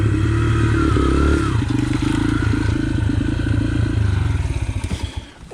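A Honda CRF pit bike engine runs loud and close for several seconds, revving with a rattling, clattering tone, then drops away and cuts out near the end while riding around a small airport.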